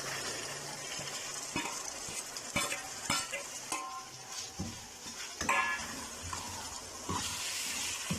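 Tomatoes sizzle steadily in a pan with fried garlic and ginger while a utensil stirs and clinks against the metal now and then, with no talking.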